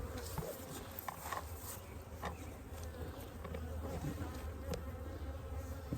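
Honey bees buzz around an opened hive on a rainy day in the woods, many close and distant wings whirring in a continuous drone with occasional louder passes near the microphone.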